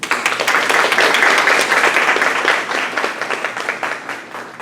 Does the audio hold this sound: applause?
yes